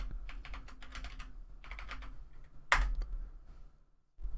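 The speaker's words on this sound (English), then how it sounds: "enter your password that you created" A password is typed on a computer keyboard in a quiet run of quick, soft key clicks, then a single sharper, louder keystroke like Enter, followed by a brief hush.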